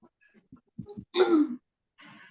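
A few small throat noises lead into one harsh, rasping throat clear, then a softer breathy follow-up; close and fairly quiet.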